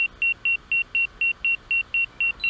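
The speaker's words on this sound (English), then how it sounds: "the beeping you're hearing is it's seeing that log in front of us" Rapid, evenly spaced electronic beeps from an Autel EVO drone's obstacle sensor detecting a log ahead, about a dozen in a row, loud and clear with no talking.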